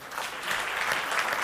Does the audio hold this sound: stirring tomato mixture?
no